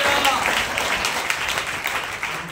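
A church congregation claps loudly and steadily during a worship service, a dense wash of hands that carries throughout with a hint of voices mixed in.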